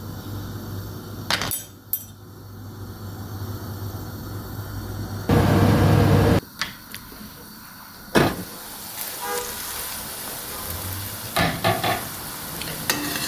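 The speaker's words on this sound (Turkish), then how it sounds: "Ara ara soğanları karıştırıyorum." Onions stirring in a pan with margarine, a spoon scraping and clanking irregularly against the metal, with a loud burst of sizzle midway and scattered knocks after.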